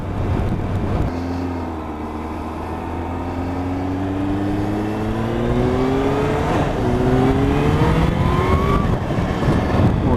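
A Kawasaki H2 SX SE motorcycle accelerates hard, its engine note sweeping upward through the revs with a gear change partway, loud and close throughout with steady wind rush beneath.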